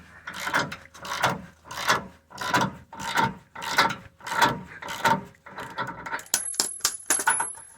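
Rhythmic ratcheting clicks from a wrench turning a bolt during a leveling kit install on a 2011 to 2018 Chevy/GMC 2500/3500HD truck, about a dozen evenly spaced swings of rapid clicks, close up and without talk.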